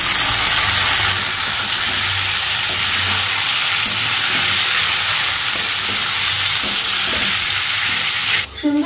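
Meat hits browned fried onions in a pan and sizzles hard, a loud continuous hiss with occasional spatter and stirring scrapes, ending in a sudden clatter; no talking.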